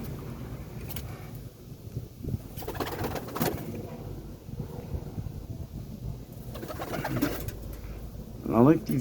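Birmingham Roller pigeons coo softly in a loft, low murmuring calls under shuffling, door and handling noises, with wind rumbling on the microphone.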